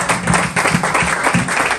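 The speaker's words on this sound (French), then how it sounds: "applaudissements encore, s'il vous plaît." Applause from a church congregation, a steady wash of many hands clapping at close range for the whole stretch, with a few louder claps and some faint voices mixed in.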